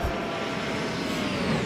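Aerosoft CRJ jet engine in a flight simulator game, roaring like an afterburner: a steady, loud, broadband rush with a faint whine above it, unbroken for the whole moment.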